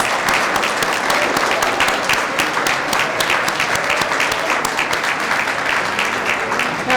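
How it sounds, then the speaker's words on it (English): Audience applause at a graduation commencement ceremony, a large crowd clapping loudly and continuously in a thick, sustained roar of hands. "Please give them a round of applause."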